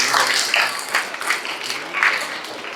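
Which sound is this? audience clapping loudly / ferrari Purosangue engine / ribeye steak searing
audience clapping loudly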